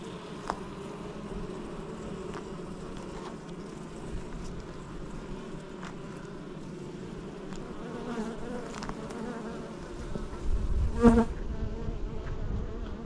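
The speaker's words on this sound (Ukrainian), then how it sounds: "Бджоли активні." Honeybees hum in a thick, continuous drone close by at an open hive, with individual buzzes rising louder toward the end.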